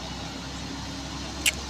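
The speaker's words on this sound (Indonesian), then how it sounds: "Truk chopper sudah melakukan pendakian di tanjakan kedabuan ini" A steady, low engine drone from a nearby Fuso truck carrying a long container box uphill holds throughout, with a brief sharp hiss near the end.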